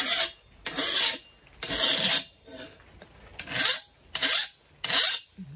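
A steel file rasps across hardened knife steel in a series of about seven harsh, close scraping strokes with short pauses between them, tested during heat treating.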